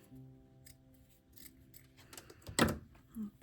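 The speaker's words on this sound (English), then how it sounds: "So I'm just gonna cut this piece here." Scissors snipping through a piece of lace during a craft session, a few soft cuts leading to one sharp, close snip near the end in a quiet room.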